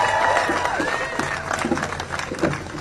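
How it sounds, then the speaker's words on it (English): A crowd at a Harvard rally for international students claps and cheers, with dense applause and scattered whoops rising and falling together, some voices shouting over the noise. "Let's hear another round of applause for Ray, Avinash, and Victor."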